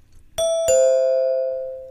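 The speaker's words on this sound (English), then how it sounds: "That's our classic doorbell sound" A classic two-tone doorbell chime: two bright struck notes in quick succession, the second ringing out and slowly decaying, clean and close with nothing else around it.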